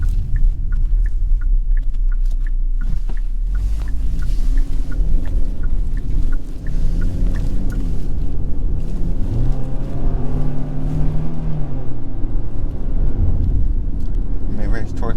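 A 2023 Kia Sportage LX engine pulls steadily through the mid-range while driving, a continuous low rumble with a rising and falling drone, joined by road noise and someone talking over it.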